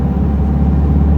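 Car engine during a driving lesson, a loud close low-pitched hum with a steady throbbing rhythm, holding level without a clear rise in pitch.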